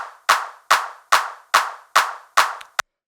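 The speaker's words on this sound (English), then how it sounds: "Then we have this clap." A dry electronic clap sample from a techno beat strikes six times at an even pulse, crisp and loud with sharp attacks and short decays, followed by a quick final hit, alone with no reverb.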